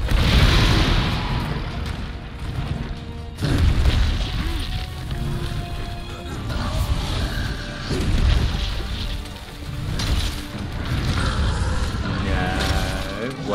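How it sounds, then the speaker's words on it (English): Repeated booming blasts and crashing rumbles in the video game Monster Hunter World: Iceborne sound in waves, with a mechanical hiss and scattered tones between them. "Explosions."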